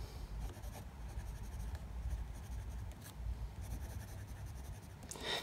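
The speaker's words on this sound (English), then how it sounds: "So once again, I'll write with this posted, because that's the way it's intended" A Wancai Mini pocket fountain pen with a fine nib, cap posted, scratches softly across paper in a steady, faint stream of close writing strokes over low background hiss.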